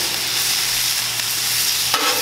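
Onions and peppers sizzle steadily on a camp griddle, a continuous close frying hiss with a slight shift near the end, no talking.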